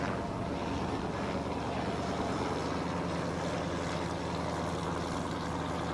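Offshore racing powerboats pass at a 1989 race in New Orleans, their engines forming a steady, dense roar mixed with wind noise, distant rather than close, and no clear rise or fade.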